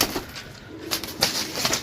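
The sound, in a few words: pigeons cooing and flapping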